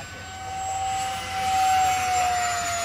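An E-flite Habu SS 70mm electric ducted fan model jet flying past, a loud steady high-pitched whine that swells and fades slightly as it passes, with no talking.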